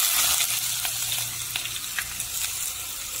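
Crushed ginger and garlic fry in hot coconut oil, a loud, dense, bright sizzling hiss that holds steady from start to finish, with faint spattering pops and no voices.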